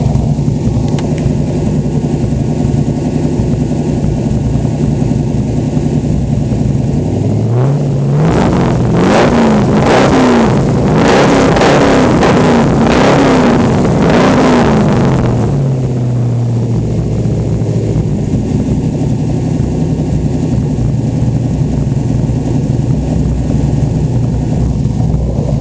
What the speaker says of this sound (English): a great tone from the 3-inch exhaust all the way back